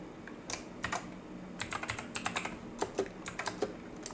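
Code being typed on a computer keyboard, a quiet, irregular clatter of key presses in short bursts, close by with no speech.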